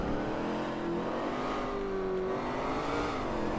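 A car engine revs up steadily while towing an auto-locking car trailer, a continuous close drone with rising tonal pitch and no speech.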